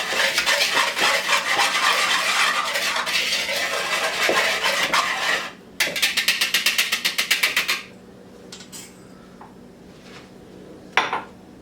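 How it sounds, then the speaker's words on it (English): A cocoa powder mixture whisked in a bowl for a chocolate pie, rapid clinking strokes against the bowl, continuous at first, then a quick rhythmic burst, a pause and a final clink. "We're going to whisk that together."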